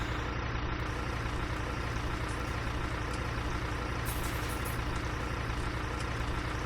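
A tractor reverses a small trailer in Farming Simulator 19, with a steady, low engine drone running continuously at moderate level and no talk over it.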